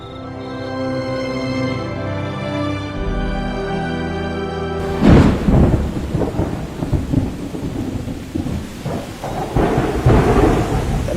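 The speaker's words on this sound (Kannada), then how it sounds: "ಗುಡುಗು, ಸಿಡ್ಲು, ವಿಪರೀತ ಮಳೆಗೆ ಟೆಂಟ್ ಅಂತೂ ಅಲ್ಲಾಡೋಯ್ತು" A thunderstorm at night over a tent: loud crashes of thunder roll in, and heavy rain and wind then pound steadily on and around the tent.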